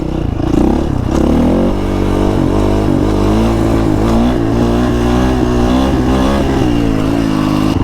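A dirt bike engine revs hard and loud throughout a wheelie, its pitch rising and wavering as the throttle is worked, close up and with no talking.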